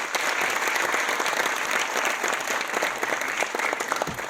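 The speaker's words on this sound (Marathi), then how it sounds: "या सगळ्यांना प्लीज जरा टाळ्या वाजून प्रोत्साहित करूया" Marathi movie premiere audience applauding steadily, a dense wash of clapping hands that holds loud and even throughout with no talk over it.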